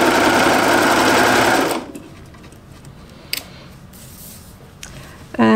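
Sewing machine stitching elastic onto a knit jumpsuit, a loud fast whirring run that stops abruptly after a couple of seconds, followed by quiet handling clicks and a brief restart at the end.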